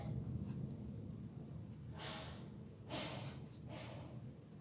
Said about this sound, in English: so I am writing one sentence